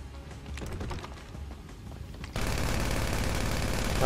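Gunfire in a first-person deathmatch in an underground area in GTA Online on PS4, with scattered shots at first, then a loud, dense burst of rapid fire filling the last half.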